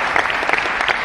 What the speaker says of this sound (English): A little round of applause for Liz.